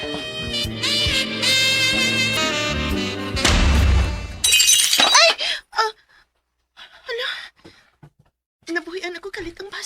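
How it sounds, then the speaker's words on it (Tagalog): A drinking glass is dropped and shatters, a sharp bright burst of breaking glass partway through, with music before it and loud emotional voices wailing and talking afterward. "Nabuhian ako kalit ang baso. Ug maayog yung pagkabuak."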